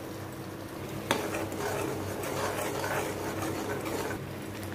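Masala paste frying in hot oil for paneer masala, a steady continuous sizzle with a clink of a utensil near the start and ongoing stirring.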